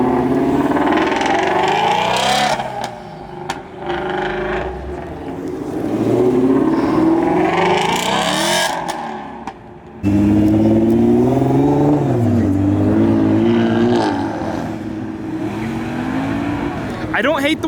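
Modified cars, including a twin-turbo GT350, revving loudly as they leave a Dallas car show, engines rising and falling in repeated bursts close by, with people talking throughout.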